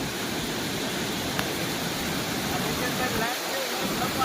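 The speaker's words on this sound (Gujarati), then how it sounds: "પાણી એટલું વહે કે અહીંયા ઊભા પણ દેતું નથી." Floodwater from the Ojat river rushes through a breached embankment into a farm, making a loud, continuous roaring wash that holds steady with no break.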